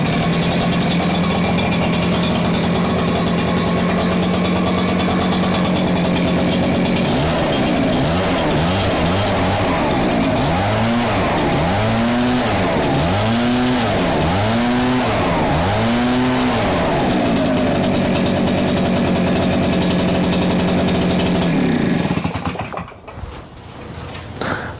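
An Echo PB 9010T backpack leaf blower engine runs hard and loud, a buzzing two-stroke roar that swells and dips in repeated revving sweeps mid-run before cutting off near the end.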